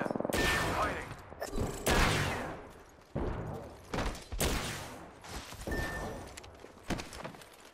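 Repeated bursts of rapid gunfire in Apex Legends, some close and loud and others farther off, with short gaps and faint footsteps and mechanical clicks between them.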